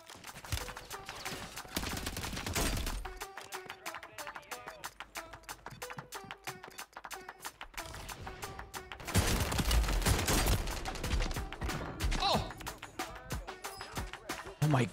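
Shotgun fire and other gunfire in a Call of Duty match, repeated sharp shots and bursts amid busy game sound, fairly quiet overall, with a voice talking at times.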